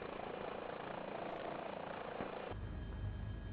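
A helicopter hovering in a flight simulator makes a steady droning rotor and engine whir, held constant and near throughout, with the tone shifting slightly partway through and no talking.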